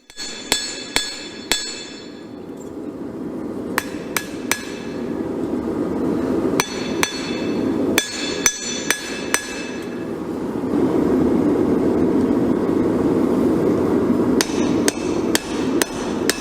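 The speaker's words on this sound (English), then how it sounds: "I'm hoping to forge the bevels pretty close to shape" A hammer strikes hot steel to forge the bevels of a hunting knife, sharp ringing metallic blows in irregular bursts of two to four, close and loud over a steady roaring forge, with no talking.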